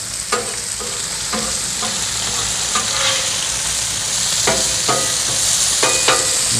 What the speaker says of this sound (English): Let's go ahead and flip our bacon over.